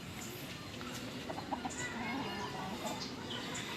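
Chickens clucking softly amid a noisy farmyard background, with a few short calls rising over steady ambient hiss.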